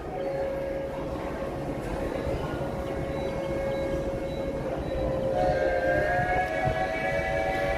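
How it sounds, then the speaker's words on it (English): Walt Disney World's Monorail Yellow pulling into the station, a low rolling rumble with a sustained electric whine that rises in pitch and grows slightly louder as the train nears. "Monorail Yellow is coming into the station."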